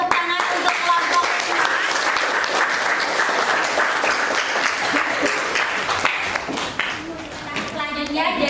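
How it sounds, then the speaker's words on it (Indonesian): Audience applause for a student group after a school classroom presentation, dense and steady clapping filling the room throughout, with brief voices and cheering mixed in near the end. "Berikan tepuk tangan untuk kelompok"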